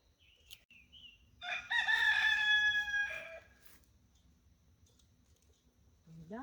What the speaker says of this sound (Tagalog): Tumilaok ang manok.